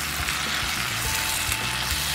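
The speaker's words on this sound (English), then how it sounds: "I'm gonna stir them." Zucchini, celery and other vegetables with green sauce frying in a pan, a loud, dense, continuous sizzle filling the background with faint stirring underneath.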